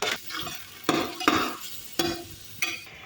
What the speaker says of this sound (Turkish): Bir yandan da soğanlar kavruluyor.